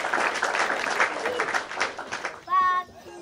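A crowd claps steadily for Papito's birthday. The applause is close and continuous for a few seconds, and then a brief sung or spoken voice cuts in near the end.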